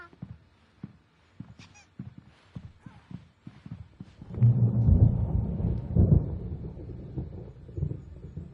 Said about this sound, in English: There's a storm coming. Oh, what a storm.